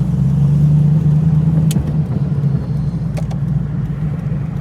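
A TVR Chimaera sports car drives on the road, its engine giving a loud, deep, steady rumble from inside the cabin. The note eases slightly partway through, with a couple of brief ticks or knocks, and nobody speaks.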